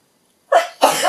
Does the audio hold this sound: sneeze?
yes